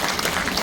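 An audience claps during a Korean talk on volunteering and a happy life, a brief burst of dense applause.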